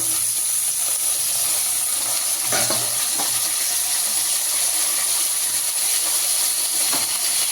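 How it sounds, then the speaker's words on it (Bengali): Eggplant pieces go into a pan of lightly fried potatoes, setting off a loud, continuous sizzle and hiss broken by a few faint stirring knocks, with no one talking. "আলুগুলো একটু হালকা ভাজা হয়ে গেছে, ওর মধ্যে এই বেগুনের টুকরোগুলো দিয়ে দিচ্ছি।"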